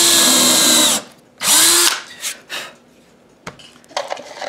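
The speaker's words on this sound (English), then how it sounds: "I'm going to go ahead and put my next indexing screw right here where the bridge pickup goes" A power drill drives an indexing screw into a Stratocaster guitar body topped with maple, in two loud whirring bursts, followed by light clinks and taps of tools.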